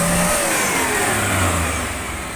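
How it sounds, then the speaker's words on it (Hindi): Engine of a Maruti Suzuki Omni CNG van running after a restart, a steady close mid-pitched hum with a slight rise and fall as it revs, no voices. "चलिए फिर से स्टार्ट कर दिया गाड़ी को, ठीक से चल रहा है"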